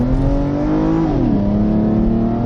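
An Aston Martin engine revs as the car accelerates, rising in pitch, then dropping with a gear change and climbing again, loud and close from inside the car with no talking.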